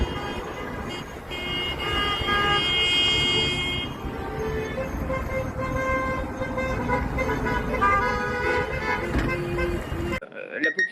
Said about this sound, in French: J'entends déjà d'ici des klaxons, des gens qui crient « Hurrah !»